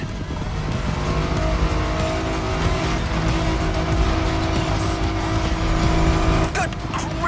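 Car driving off-road and racing downhill at full speed in The Crew Motorfest racing game, a steady loud engine roar with rough tire and terrain noise throughout, a brief scraping burst near the end.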